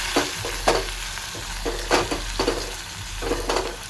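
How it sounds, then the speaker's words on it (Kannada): Boiled tomato being mashed into hot oil in a pan for a fenugreek-leaf dish, steady sizzling broken by repeated spoon presses and scrapes, several sharp bursts over four seconds. "ಅದು ಎಣ್ಣೆ ಒಳಗೆ ಸ್ಮ್ಯಾಶ್ ಆಗ್ತೈತ್ರಿ."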